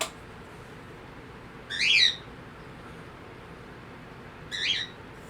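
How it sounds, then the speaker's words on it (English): Two short, high chirping bird calls from the video game Spore, about two and a half seconds apart, ringing out over a steady low ambient background with no talking. "The birds are giving their version of the commentary."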